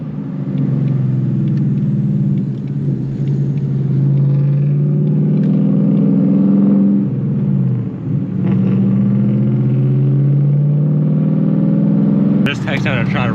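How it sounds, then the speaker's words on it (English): Mustang GT V8 rumbling and revving from inside the car, a loud steady low growl with pitch swells and a brief dip, continuous throughout with talk mixed in. "Just texting him to try to rev it up because I was wanting to try to hear it"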